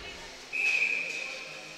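A referee's whistle blasts once at a college ice hockey game, a single sharp shrill tone lasting under a second over steady arena crowd noise.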